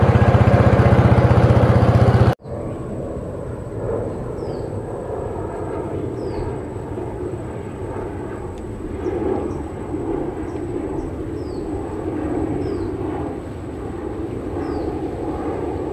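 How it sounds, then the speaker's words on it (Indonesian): An airplane passes overhead outdoors during a freshwater prawn-fishing outing. After an abrupt start, its engine gives a steady, fairly loud rumble that holds for about fourteen seconds, with faint high chirps above it. "Pesawat Mas Bro"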